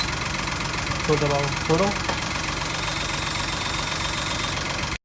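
Citroen C3 CNG car idling with a steady engine hum and vibration that shifts audibly as the clutch is pressed and released, while someone speaks briefly over it close up.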